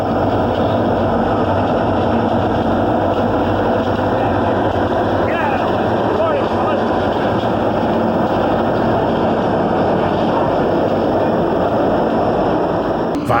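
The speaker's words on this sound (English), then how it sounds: "Here the train goes by the Canal Bridge at North Caddy." A train rolls across the Canal Bridge at North Caddy with a loud, continuous rumble and rattle that holds steady throughout and has no clear breaks.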